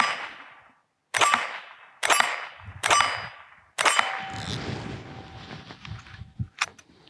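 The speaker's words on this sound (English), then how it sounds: "So we'll just shoot some rounds here" .22 semi-automatic rifle fires five sharp, evenly spaced shots nearby, each followed by a metallic ring from a steel plate on a hill, the last leaving a longer lingering hum and rattle.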